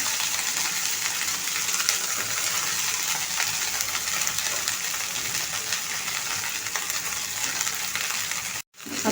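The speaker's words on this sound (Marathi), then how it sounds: "आता लसूण छान फ्राय होत आलेला आहे आणि मिरची कलर पण चेंज होत आहे" Garlic and green chilies sizzle in hot oil in a pan for chickpea leaf greens, a steady, close frying hiss with faint stirring clinks. It cuts off briefly near the end.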